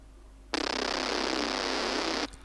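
A Serum synth bass with unison raised to 11 voices comes in sharply and holds as a thick, wide, buzzing tone for under two seconds before stopping cleanly.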